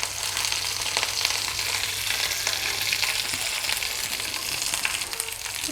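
Dried red chillies, shallots and curry leaves sauté in hot oil, giving a steady, dense sizzle and crackle close by that runs without a break and without talk.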